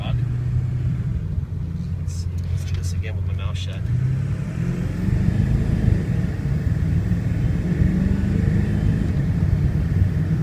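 A 1999 Ford F350 diesel pickup drives along with a steady, loud low engine rumble and road noise throughout, rising slightly midway as it accelerates, with no talking.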